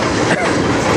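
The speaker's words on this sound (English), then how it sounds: "We do have a train coming up here on track 2." A CN freight train rolls past on a nearby railway track, a loud, steady rumble with rhythmic wheel clatter that continues throughout with only a brief dip in intensity.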